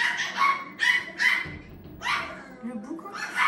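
Several high-pitched puppy yips come in short bursts close by, with some voices murmuring between them.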